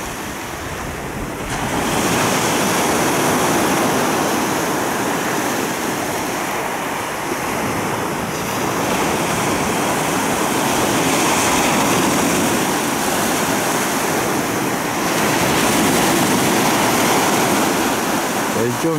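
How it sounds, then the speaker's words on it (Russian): Sea waves surge and crash steadily along the Yalta embankment in Crimea, with backwash meeting incoming swells; a loud, continuous roar of surf mixed with wind noise on the microphone, no voices. "встречается волна с волной"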